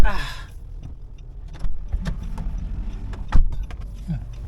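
Keys jangle briefly inside a car on a drive home from Pampanga to Makati, small metallic rattles and clinks close by amid cabin rumble and door or handling noises.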